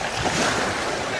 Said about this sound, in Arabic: ليك البحر اخوتي